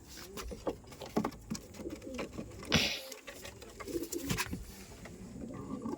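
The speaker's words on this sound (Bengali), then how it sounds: "ভয় পাচ্ছে পায়রা, ভয় পাচ্ছে" Frightened pigeons give soft, low coos up close, mixed with scuffling, wing flutters and knocking noises in a quiet space.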